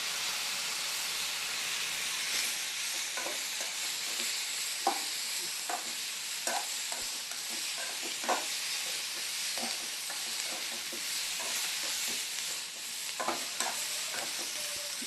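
Coriander seeds, cumin and turmeric fry in a pan with a steady close sizzle, broken by scattered soft pops and the scrape of stirring throughout.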